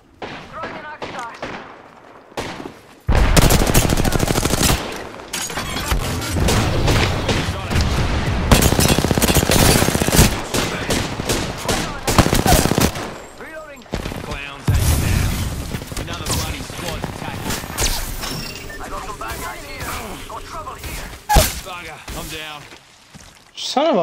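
Rapid gunfire and heavy bursts fill a first-person video game shooter with shield and arc star abilities, loud sustained volleys broken by short pauses, with a player talking over the shooting.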